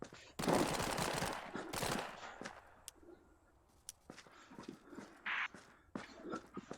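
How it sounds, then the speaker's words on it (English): Gunfire in the VR shooter Contractors VR, a burst of rapid shots early on followed by scattered sharp cracks and thuds, fairly quiet overall. "They're shooting"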